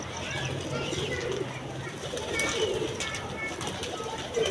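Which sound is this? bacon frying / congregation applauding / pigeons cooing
pigeons cooing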